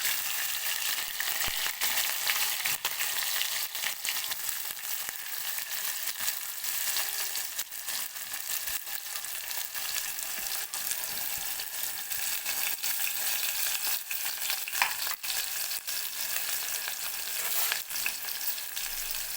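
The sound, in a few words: chopped green chilli and onion frying in oil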